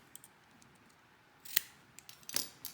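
Small scissors trim cotton wick for a vape coil build on a Smok TFV12 Prince RBA, giving two or three quick, crisp snips heard close up in an otherwise quiet room.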